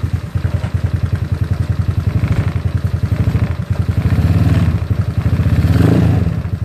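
An SSR Interceptor 150 scooter (ZNEN ZN150T-9) with its manual choke on starts up and runs with a loud, steady putter, then revs up in brief swells near the end.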